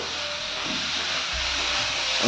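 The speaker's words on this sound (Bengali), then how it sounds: "রাতে রান্না হচ্ছে এই যে আলু ভাজা হচ্ছে" Potatoes frying in a pan at home during evening cooking, heard as a continuous broadband hiss that swells slightly toward the end. No voices.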